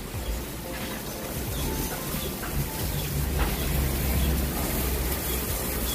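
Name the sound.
strong wind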